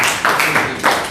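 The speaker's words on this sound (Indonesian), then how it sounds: "tepuk tangan untuk Razan" Schoolchildren in a classroom lesson clap for a classmate. Loud, close claps come in short uneven bursts through the brief moment.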